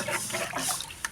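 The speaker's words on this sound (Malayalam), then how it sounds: "ഇത് നമുക്ക് കുറച്ച് വെള്ളം ഒഴിച്ച് കൊടുക്കാം പാവല്ലേ" Water trickles and splashes softly as it is poured out by hand, a brief, faint, uneven liquid sound with no voices.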